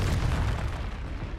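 Confringo blasting spell detonating in Hogwarts Legacy, a dense, continuous roaring blast with heavy low rumble that stays loud throughout the short moment, with no talking.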